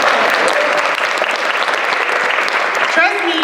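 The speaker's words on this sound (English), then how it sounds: "That deserves a clap." An audience at a community speaking event bursts into loud, sustained applause, and a voice briefly joins in toward the end.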